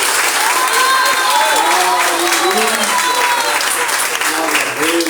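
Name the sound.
congregation clapping in church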